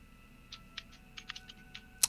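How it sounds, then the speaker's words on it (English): Someone types on a computer keyboard in a short, quiet burst of about a dozen irregular key clicks, ending on one sharper, louder tap. "She's typing."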